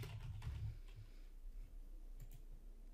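Typing on a computer keyboard during a software demo, a short burst of soft clicking keystrokes over a low background hum, no voices.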